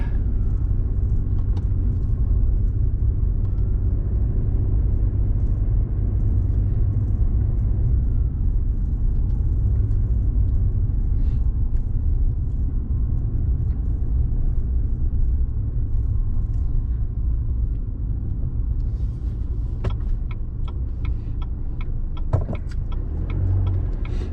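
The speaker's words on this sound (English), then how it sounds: "Feels good to be driving again." A car drives a road near Lake of the Woods in southern Oregon, heard from inside as a steady low engine and tire rumble with road noise, unbroken for the whole stretch.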